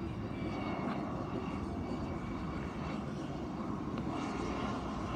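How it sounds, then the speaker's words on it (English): A small private jet lands at Piarco airport in Trinidad, its engine roar a steady, moderately distant rumble that holds throughout with no clear rise or fade. "It's a private jet."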